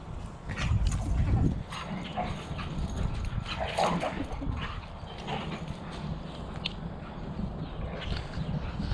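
Dogs scuffle and snarl in a backyard, a rough, jumbled burst of noise that is loudest at the start and then continues fainter.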